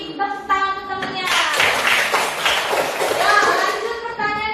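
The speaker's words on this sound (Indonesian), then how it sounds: "kasih tepuk tangan untuk temennya" Classroom of children clapping together for a classmate, a dense burst of close claps lasting several seconds, with a voice speaking just before and after.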